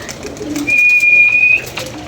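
A pigeon calls once, close and clear, a short sustained note over quiet outdoor ambience on a hot day with pigeons flying all around.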